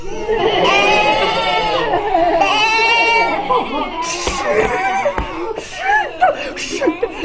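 A group of children imitate sheep bleating, overlapping wavering "baa" voices at first, then scattered shorter bleats, laughter and chatter in a room during a storytelling session.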